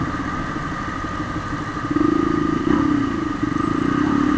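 A Honda CB150R motorcycle engine runs steadily and loudly up close with a low droning tone, rising in level partway through as though the rider enters a tunnel.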